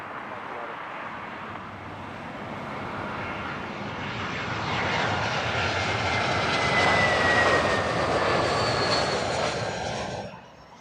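A Qatar Airways Airbus A350-900 jet arrives at Heathrow Airport, its engine roar building steadily to a loud peak as it passes, then cutting off abruptly.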